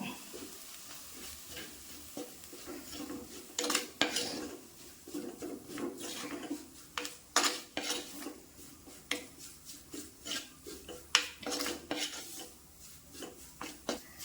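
Chili powder and coriander powder sizzle in a pan for a fish curry, with a spoon scraping and clinking against the metal in an irregular rhythm over a soft, steady frying hiss. Heard up close, with no talking.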